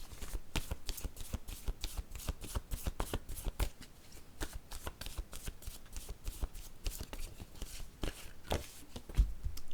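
Word cards for a card reading being shuffled by hand, a close, quiet run of rapid riffling bursts and soft flicks repeating in an uneven rhythm, with no voice over it.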